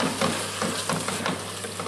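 Red wine hitting a hot pan of cooking onions and sizzling, a dense, steady hiss that fills the whole stretch, close and loud with faint stirring underneath, without talk.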